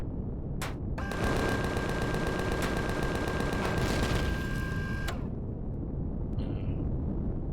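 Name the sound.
gunfire from ground enemies in Empyrion Galactic Survival video game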